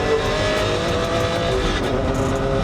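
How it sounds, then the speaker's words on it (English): A Maserati MC12 Stradale sports car, one of only 50 built, roars steadily at close range as a loud, continuous engine drone with brief tire squeal, no voices. "This is a Maserati MC12 Stradale I've come to have a look at."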